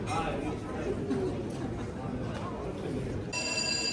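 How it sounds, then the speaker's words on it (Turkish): An airport alarm rings steadily in a busy departure gate waiting area, steady tones over crowd chatter and murmuring voices. "Havalimanının alarmları çaldı. 5 dakikadır da aralıksız çalıyor."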